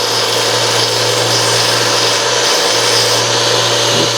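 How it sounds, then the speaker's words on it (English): Belt sander grinding and rounding a metal fork, a loud, steady, continuous whirring roar with a constant hum underneath. "This is my belt sander. Just gonna kind of round that off a little bit."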